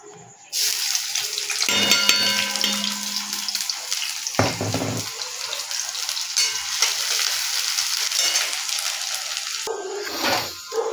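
Onion and green chili dropped into hot oil in a pan, setting off a loud, steady sizzle and crackle that runs close and constant for the whole stretch, with a brief clatter partway through.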